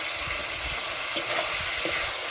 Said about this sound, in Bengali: এটাও আমি ভালোভাবে নাড়াচাড়া করে নেব।